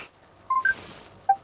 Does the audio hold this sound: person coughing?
no